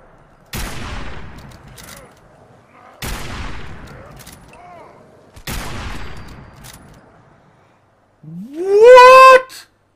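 A .50 caliber gun fired in Fallout 4: three separate heavy booming shots spaced a few seconds apart, each a sharp crack that rings out into a decaying echo, followed by a rising tonal wail at the end.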